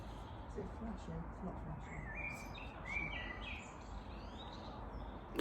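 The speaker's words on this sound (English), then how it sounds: "The birds are noisy, aren't they?" Several birds chirp outdoors around Crowland Abbey, giving faint, scattered high tweets over a steady low background hum. No one speaks at this moment.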